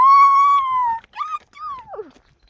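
A large pet dog gives a long, high, drawn-out whine, then shorter whimpering yips and a falling moan, close by and clear with no talking over it.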